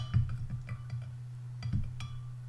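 A spoon stirring tea in a cup gives a few faint, light clinks against the rim over a steady low hum.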